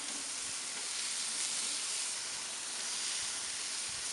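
Pork steaks sizzle on a grill over indirect heat, a steady close hiss and crackle with faint pops, no voices.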